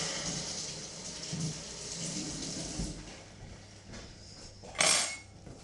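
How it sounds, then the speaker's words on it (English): Tap water runs steadily into a kitchen sink while hands are washed under it, a soft close hiss with one brief louder splash near the end and no talk. "Wash my hands."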